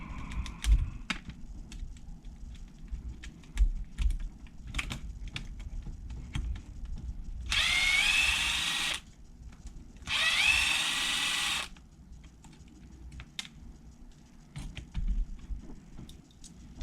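A power drill removes screws from the rear end of a nitro car, with two steady whirring bursts of about a second and a half each, close up, amid light clicking and handling noises.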